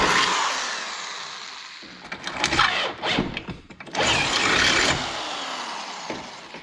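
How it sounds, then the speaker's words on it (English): A drill bores mounting holes into a Toyota FJ Cruiser body for flush-mounted tail lights, giving close, loud bursts of whirring and grinding separated by brief pauses. "Drilling mounting holes in the body will also be required."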